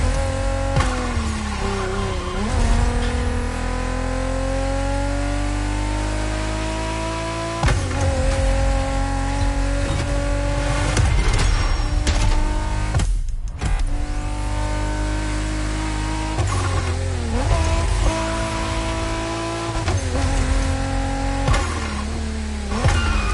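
A car drifting in The Crew racing game, with loud engine revving that rises and falls in long sweeping pitch changes, brief drops between runs and a sharp break midway, continuous and close.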